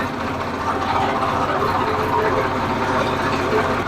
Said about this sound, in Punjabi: ਟ੍ਰੈਕਟਰ ਨਾਲ ਦੇਖੋ ਸਫਾਈ ਹੋ ਗਈ